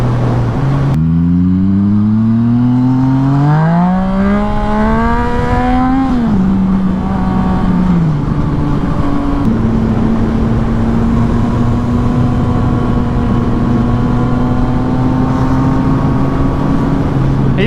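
A motorbike engine revs up in rising pitch sweeps over the first few seconds, then settles into a steady, loud idle-like drone that continues to the end.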